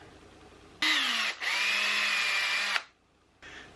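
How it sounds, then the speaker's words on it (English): Power drill pre-drilling into a wooden cross piece for a workshop French cleat, two close, loud bursts of steady whining motor with a short dip between, then a brief third spin-up at the end. "I want to match that up and pre-drill into that cross piece as well."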